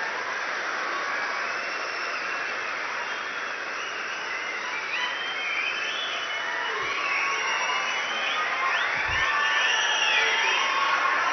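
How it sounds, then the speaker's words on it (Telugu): A large crowd at an outdoor political rally claps continuously, a dense, even wash of applause with occasional whoops and shouts carrying over it. "చప్పట్లే కదా కొట్టేసినాం"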